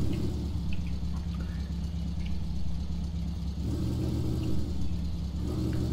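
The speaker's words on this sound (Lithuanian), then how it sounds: "Variklis riaumoja garsiai." A Zyla vehicle's engine in Farming Simulator 2015 drones with a loud, steady low rumble, briefly shifting in pitch partway through and then resuming, with no speech over it.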